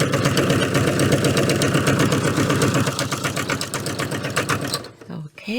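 A sewing machine stitches a fabric bag with a fast, even mechanical chatter, loud and close, running steadily before slowing and stopping near the end.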